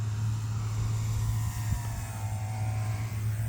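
RC Mamba model airplane coming in to land after repair, a continuous steady motor drone with a constant tone, moderately loud and with no talking.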